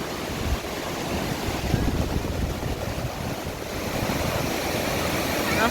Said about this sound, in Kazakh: Судың ағысы.